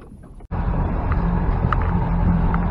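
A fishing boat idles along lake banks, its steady low engine drone and water wash filling the scene after a brief quieter start, with light wind noise.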